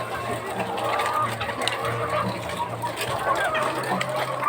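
A flock of egg-laying layer hens kept for egg production fills the air with dense, continuous clucking and chatter, fairly close and steady throughout, over a constant low mechanical hum.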